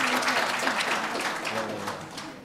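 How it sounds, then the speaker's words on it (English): Audience applause for the panelists at a university research symposium, steady, dense clapping from a room full of people, sustained throughout at an even level. "Can we give them another round of applause?"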